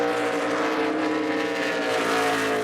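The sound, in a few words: NASCAR race trucks driving on road course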